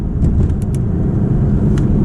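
An Audi R8 engine hums steadily at low revs in comfort mode from inside the cabin, smooth and subdued with constant road rumble.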